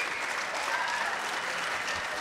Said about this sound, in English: The crowd go mad and we're waiting for the decision.